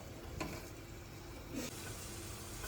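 Previously frozen garlic sizzles and fries in a pan while it is slowly stirred for homemade momos, with a soft continuous crackle and a couple of brief scraping stirs.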